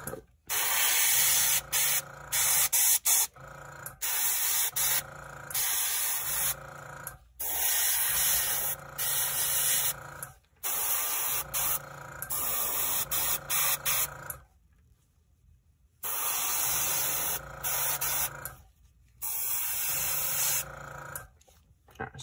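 Airbrush spraying a reddish brown paint undercoat onto metal and bone miniature figures, a close, steady hiss in repeated bursts of a few seconds each, separated by short pauses and one longer gap of silence.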